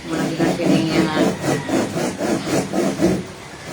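A hand saw cuts through wood in steady back-and-forth strokes, about eight evenly spaced rasping pulls, close and loud with no talk over them.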